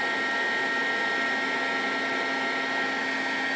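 A heat gun blows steadily on a plastic part of a Citroën BX, a constant close whirring hiss with a faint high motor whine and no breaks.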